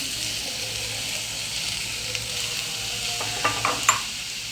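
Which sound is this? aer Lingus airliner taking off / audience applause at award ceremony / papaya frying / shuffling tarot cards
papaya frying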